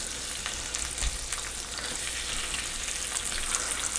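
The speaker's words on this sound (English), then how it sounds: "I'm going to start laying it in the frying pan like so." Bacon strips laid into a frying pan for collard greens, crisping in their fat with a continuous moderate sizzle and light spattering, no talking.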